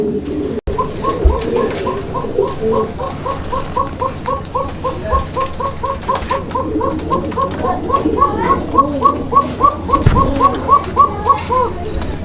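Many fancy pigeons coo in steady overlapping rounds, a dense rhythmic chorus throughout, with a faint voice and a sharp knock early on.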